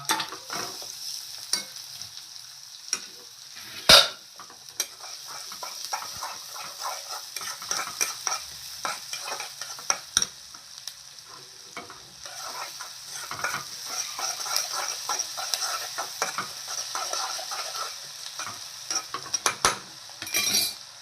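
Onion frying in a pan for a bombil curry, a continuous close sizzle with frequent stirring scrapes and light clinks of a utensil against the metal, one sharp knock early on.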